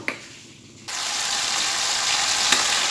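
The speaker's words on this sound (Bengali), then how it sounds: "এইবারে আমি যে লঙ্কা আদা রসুনের যে পেস্টটা বানিয়ে রেখেছিলাম সেই আর টমেটো সেই পেস্টটা এবার আমি দিয়ে দেব" Chili, ginger, garlic and tomato paste drops into a hot pan on low gas and sets off a loud, steady sizzle that holds close and even after a quiet start, with a brief clink of a utensil.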